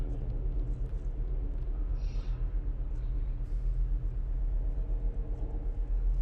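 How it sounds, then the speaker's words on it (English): Traffic passing outside, a steady low car-engine rumble that hums on in the background without pause, fairly faint and distant. "So many car noises outside for no reason."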